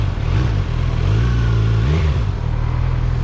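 A 2025 Kawasaki Z900 ABS motorcycle engine hums loud and steady while riding, its pitch shifting slightly with throttle and the rush of wind underneath.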